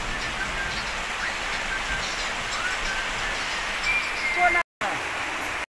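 Rain falls as a dense, even hiss throughout, broken by a brief gap near the end, with faint background sounds mixed in.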